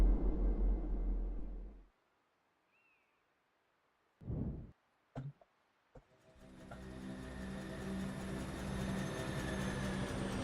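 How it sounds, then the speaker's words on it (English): Train passing in the factory-building video game Foundry, a steady low rumble that cuts out, followed by a few sharp clanks before a broad, rising mechanical roar swells in and holds. "Quick, the train's coming."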